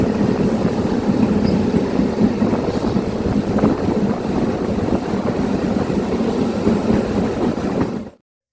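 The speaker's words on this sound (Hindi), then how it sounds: "अब इस DEMU का एक्सेलरेशन देखिए।" Heard from aboard, a DEMU diesel-electric passenger train accelerates on the Lonand-Phaltan line with a loud, steady engine and wheel rumble that holds constant before cutting off abruptly.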